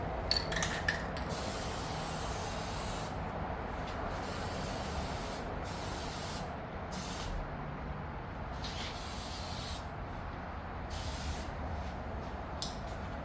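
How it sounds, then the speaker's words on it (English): Plasti Dip spray coating the chrome window trim on a Mini Cooper S, a light first dusting: a continuous close aerosol hiss broken by several short pauses between bursts, no talk. "All right, let's just do one light first coat dusting."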